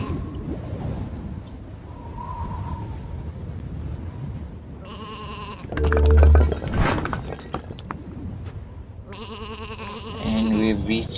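Sheep bleating in the video game Isle of Ewe, a few short bleats rising briefly above a steady background of game music and ambient noise, with occasional clinks and thuds.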